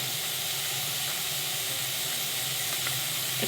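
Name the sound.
spice-bowl rinse water poured into hot pan for fish curry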